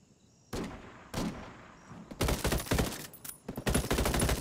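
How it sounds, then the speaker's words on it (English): Bursts of gunfire in the tactical shooter Ghost Recon Wildlands, a couple of isolated shots followed by loud sustained automatic volleys, close and sharp, with no talk over them. "Shit, taking fire."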